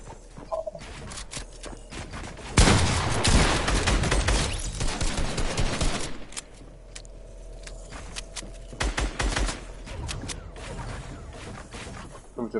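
Video game gunfire crackles in rapid bursts and single shots, loudest in a dense burst midway and again near the end, with a couple of players talking over it.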